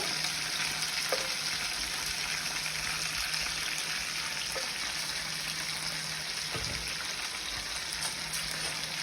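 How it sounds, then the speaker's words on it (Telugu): Green chili, curry leaves and tomato fry in a pan for Andhra-style pappu charu, making a continuous loud hiss and sizzle with a few faint utensil taps and no talk. "అన్నీ ఫ్రై అయ్యేంత వరకు వేయించుకోవాలి."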